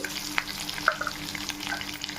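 Dried chillies and spices fry in hot oil for tamarind pulihora, a close steady sizzle with a few sharp crackles and stirring clicks.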